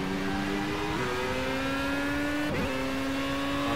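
A Formula A race car engine in Project Cars revs high and steady, its pitch climbing through gear shifts with brief dips. The loud, continuous whine is heard alone.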